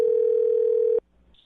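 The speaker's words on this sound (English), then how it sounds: "I'll dial her phone number and try one more time" A steady telephone dial tone holds for about a second, loud and clean, then cuts off abruptly into near silence with a faint high electronic tone at the end.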